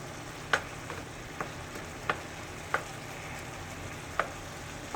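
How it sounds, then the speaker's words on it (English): Ground beef browns in a frying pan with a soft, steady sizzle, broken by a few sharp pops and crackles at irregular moments; no voices. "While you're browning the meat, try to get the hamburger that's fine."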